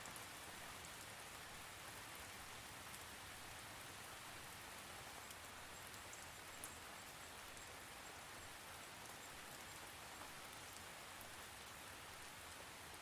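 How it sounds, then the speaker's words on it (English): Steady, dense rain falls continuously, a close hiss of drops pattering on surfaces with no pauses and no voices. "You could be aware of the drips of the rain"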